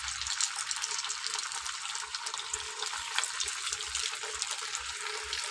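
Suji and boiled potato snacks dropped into hot white oil sizzle and bubble steadily, a dense close hiss that continues without a break.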